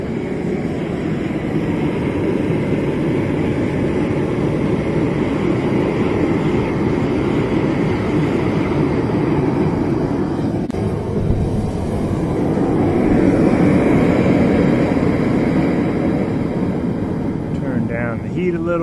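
A home forge burner roars steadily with a new air-fuel mixture after the regulator pressure is turned way up. The dense, even rush holds for the whole stretch and swells slightly partway through.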